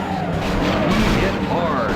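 Race cars pulling away at the start of a race in an N64 racing game, engines revving and rising in pitch together, loud and close, with a voice talking over them.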